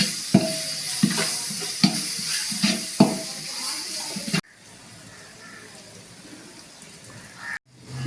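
A spoon stirs ginger-garlic paste into sizzling chicken masala in a pan, with several clear scraping strokes over a steady fry that then drops to a quieter hiss.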